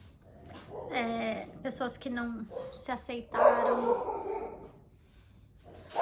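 Pet dogs bark indoors in short yips, partly under someone talking and then more clearly in a burst near the middle, fairly quiet overall.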